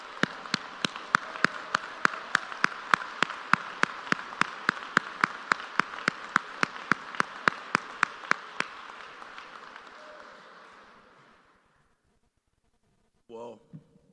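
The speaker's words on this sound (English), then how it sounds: "So if y'all can give her a round of applause." A school crowd at a campus ribbon-cutting ceremony gives the principal a birthday round of applause, with sharp individual claps standing out over dense clapping that fades out after about ten seconds, followed by a brief burst of talk.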